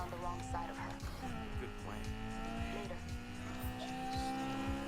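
A Honda S2000 in the racing game Need for Speed Heat, its engine droning with shifting revs and repeated tire squeals while someone talks over it.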